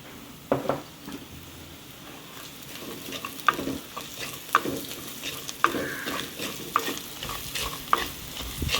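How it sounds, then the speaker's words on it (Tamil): Potato and salt sauté in a pan for Jaffna-style spicy cutlets, with a soft sizzle under repeated scraping stirs and light clinks of a spoon against the pan at an irregular pace. "இனி இந்த உருளைக்கிழங்குக்கு கணக்காக உப்பையும் போட்டு வதக்கும்."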